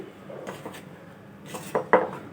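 A spoon scrapes and clinks against a bowl while hot oil is mixed into aloo samosa dough, with soft scattered scrapes building to two sharper knocks near the end.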